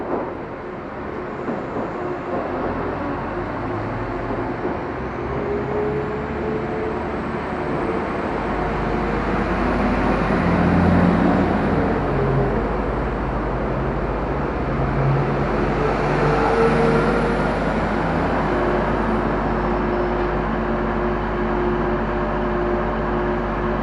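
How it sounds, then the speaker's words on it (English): A class 195 train pulls out of Warrington Central station, a steady rumbling engine drone that swells and holds for over twenty seconds, with a low hum throughout and no voices. "Train now departing is 195 going to Lime Street"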